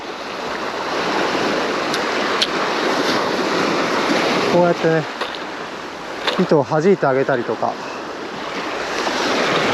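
Ocean waves break steadily on a sandy beach, a loud continuous wash of surf with wind noise, while someone talks briefly partway through.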